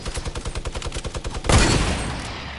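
Video game gunfire, a fast run of rapid automatic shots firing in an even rhythm, then a heavy booming blast that rumbles and fades out, loud and close.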